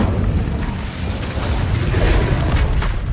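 Incendio fire spell cast in Hogwarts Legacy, a sustained roaring burst of flame with booming, crackling low rumble throughout, loud and steady with no talk.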